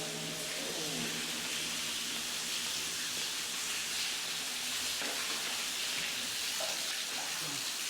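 Water gushing steadily through a narrow gap, a continuous broadband rush with no breaks that holds at an even level for the whole stretch.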